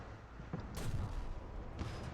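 In War Thunder, a KV-2 tank's cannon fires one heavy report, followed by a second blast nearly a second later. Both are moderately loud over steady engine rumble.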